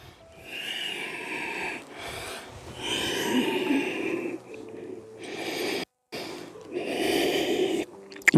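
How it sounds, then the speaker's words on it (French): Slow, audible nasal breathing during yoga child's pose (Balasana), with several long inhale and exhale cycles close up and no talking. "On continue à respirer par le nez."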